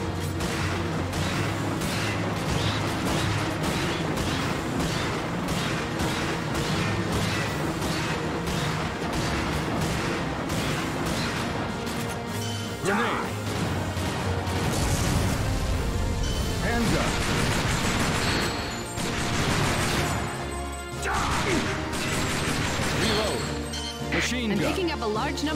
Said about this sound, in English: Use the shotgun for this type of enemy.